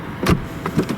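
A driver's side power window motor on a 2001 Mercedes-Benz S430 gives a short whirring run, with two bursts of motor noise close up inside one second.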